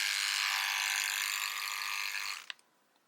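A close Philips Aqua Touch S5420/06 wet-dry electric shaver buzzes loudly and steadily, then switches off with a couple of faint clicks.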